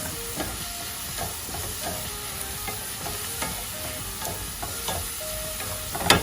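An onion mixture frying in a pan while it is stirred, with a steady close sizzle and hiss broken by repeated scraping strokes of a spoon.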